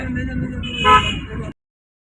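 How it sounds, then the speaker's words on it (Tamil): A car horn sounds briefly amid road noise and a passing vehicle, with people talking throughout. "அடுத்து இதில் ஹார்ன் அடிங்க."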